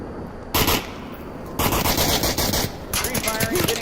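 Rapid automatic gunfire in the VR shooter Onward during a competitive match, several loud bursts of rattling shots separated by brief gaps, close and sharp.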